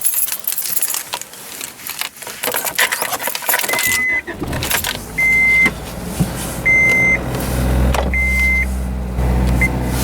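Keys jangle in the ignition of a 1985 Honda Accord DX five-speed, then the engine cranks and catches, settling into a steady idle while several short warning chimes beep repeatedly over it.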